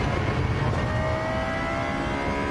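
The Gran Turismo 7 rally car's turbocharged Toyota three-cylinder revs hard in a continuous, loud mechanical drone. It starts with a rough low growl and settles into a smoother, steady high whine, with nothing else heard.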